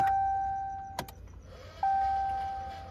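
A faint steady electric whine from an oil pump hums alongside a low motor drone, with a brief click near the middle and a second whine rising in afterward.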